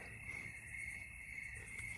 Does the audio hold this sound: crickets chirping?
yes